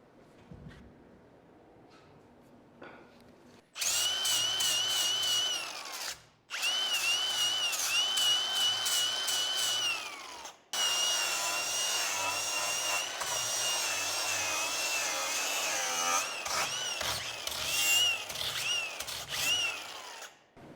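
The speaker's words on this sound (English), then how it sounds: "It's got a little bit of sanding and grinding to do." A loud power tool whines in long bursts with short pauses between, a high grinding buzz that runs steadily for several seconds at a time.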